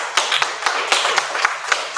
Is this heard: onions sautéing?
no